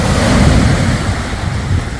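Mediterranean sea waves washing onto the shore at a Spanish campsite beach, a loud, close, continuous roar of surf with broad hiss and rolling low rumble, no voices over it.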